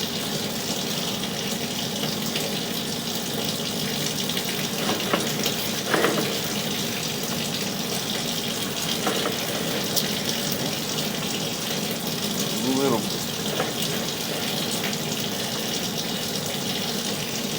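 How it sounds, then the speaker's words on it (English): Water runs steadily through an old cast-iron residential sewer line partly replaced with PVC: a continuous, even rushing flow with a few faint knocks and gurgles, and no voices. "we'll leave the water running"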